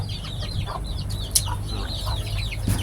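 Chickens cluck and chirp repeatedly in short rising calls, close by and continuous over a low background hum.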